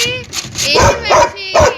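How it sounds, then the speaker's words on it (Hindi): A pet dog barks at home as its owner arrives, three loud, close barks in quick succession with whiny tones between them, and a voice talking over the barking. "अब मैं घर पहुंच चुकी हूँ और मैक्स का भौंकना देखो चालू है।"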